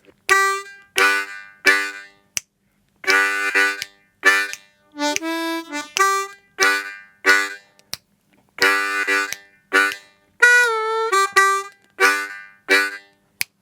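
Harmonica loop plays a repeating rhythmic pattern of short, breathy chordal bursts and a few sustained notes, evenly pulsed and looping without a break, alone with no talk.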